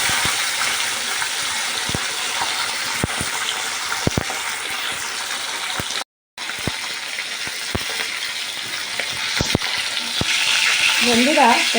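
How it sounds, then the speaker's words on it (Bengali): Fish frying in smoking-hot oil in a karai wok gives a steady, loud, close sizzle with scattered crackles and pops, broken by a brief silent gap midway. "তাড়াতাড়ি করে মাছটা ভেজে ফেলি"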